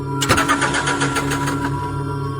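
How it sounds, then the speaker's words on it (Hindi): A damaged car engine in a cartoon tries and fails to start, giving a brief cranking sputter with rattling bursts over a steady low engine hum, close and fairly loud, with no voices. "इंजन डैमेज हो गया है, कार चालू नहीं होगी"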